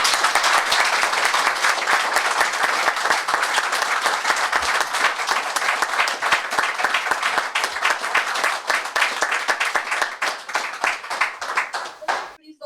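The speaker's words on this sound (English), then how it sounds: "Let's also have a round of applause for our panelists." An audience applauds panelists at a space panel discussion, a loud, dense and sustained round of clapping that fades near the end, with a voice briefly under it.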